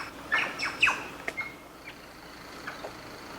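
Birds on a large Brazilian farm with native forest give several short, bright chirps and tweets in quick succession early on, then fainter scattered calls over a quiet outdoor background.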